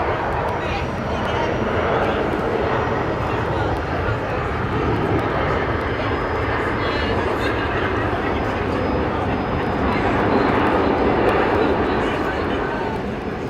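A Cathay Pacific Boeing 747 on approach to Brisbane airport gives a steady, loud, broadband engine roar that holds throughout, with air-traffic radio voices talking over it.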